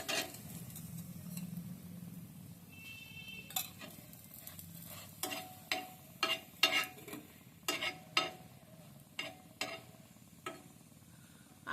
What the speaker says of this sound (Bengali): আমি সাদা তেল দিয়ে ভাজছি